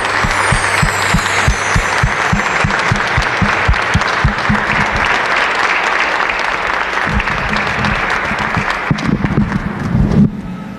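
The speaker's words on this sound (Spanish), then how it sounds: "Un aplauso grande pues para nuestro sacerdote, el padre Miguel." Congregation applause for a priest at a thanksgiving birthday Mass, a loud sustained round of clapping lasting about ten seconds, with some low thumps and a brief swell near the end.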